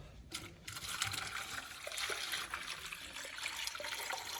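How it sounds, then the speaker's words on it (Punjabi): Steady water pouring and splashing into a container, continuous and fairly close, with a few small knocks and no talking. "ਸਭ ਤੋਂ ਪਹਿਲਾਂ ਇਹਨੂੰ ਪਾਣੀ ਪਾ ਦਈਏ"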